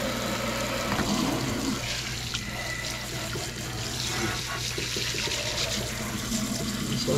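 Tap water runs into a garbage disposal sink to rinse out gunk, a steady, fairly quiet broadband rush over a low mechanical hum, with no talking.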